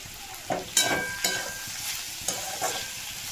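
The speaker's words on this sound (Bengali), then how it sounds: "ছোট্ট ছোট্ট করে দেখো শুকনো লঙ্কা কাঁচি দিয়ে কেটে দিয়েছি, আর একটা ফোড়নও দিয়েছি।" Chopped dried red chillies sizzle in hot oil as a tempering in a pan, with a soft steady frying hiss broken by several sharp stirring scrapes, close and fairly quiet.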